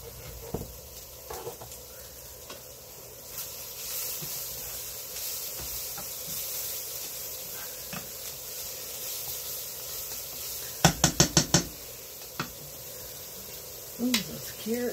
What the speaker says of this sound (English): those carrots are boiling well